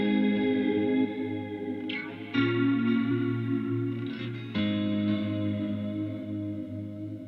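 A Helix Stadium XL guitar preset plays a sustained ambient shoegaze tone, washed in reverb and chorus, with long droning chords that swell and shift every couple of seconds, loud and steady with no talk.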